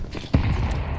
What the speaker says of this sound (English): that nade landed right on the feet of Galaxy